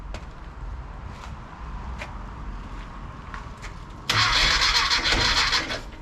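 A rebuilt motor on SG's machine is cranked and fires. Quiet clicks and faint knocks come first, then the engine catches with a sudden louder burst of rough, close running noise that holds for about two seconds.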